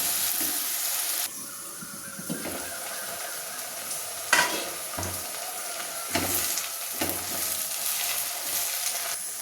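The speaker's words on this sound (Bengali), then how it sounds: "আরও একটু এই মশলাটাকে আর কি ভাজা ভাজা করে নিচ্ছি আমি" Onion and tomato masala sizzling in oil for dal tadka, with repeated spatula scrapes and clinks against the pan over a continuous close frying hiss, no talking.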